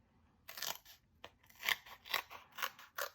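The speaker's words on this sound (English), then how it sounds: "And then we'll cut a couple of side pieces." Scissors snip through paper card to make side pieces for a handmade shadowbox card: about six sharp, close cuts in an uneven rhythm, with no voices.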